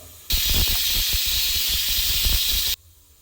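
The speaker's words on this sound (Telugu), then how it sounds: "థర్డ్ విజిల్ అయితే అయిపోయింది కదా" A loud, continuous hiss of steam jets from a pressure cooker whistle for about two and a half seconds, then cuts off abruptly, with low rumbling underneath.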